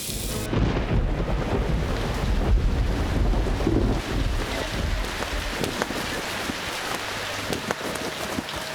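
Heavy rain and rumbling thunder from a TV comedy sketch make a loud, dense roar that fades slightly over time, with wind buffeting and no talking.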